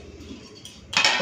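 Metal utensils clink against dishes as cooked rice is served onto a plate: soft scraping, then a brighter cluster of sharp clinks near the end, close and fairly quiet.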